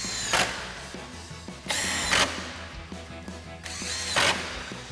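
A power tool drives the upper 10mm grille screws on a 2021-2023 Ford F-150 with a 10mm socket, giving three loud whirring bursts spaced apart, with quieter clicks and handling noise in between.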